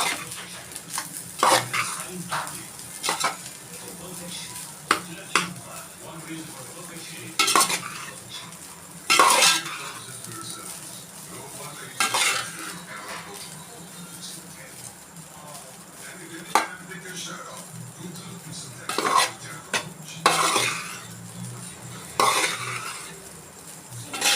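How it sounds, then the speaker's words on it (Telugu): A spoon or spatula stirs egg fried rice with chili powder in a pan, making irregular clinking scrapes against the metal at a moderate level, with short bursts of sharper strokes and quieter pauses between them. "వేసి బాగా తిప్పుకోవాలండి"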